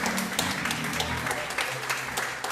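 A church congregation at a Thursday prophetic night service claps in a lively, steady round of applause, with a voice and a low sustained tone carrying beneath the clapping.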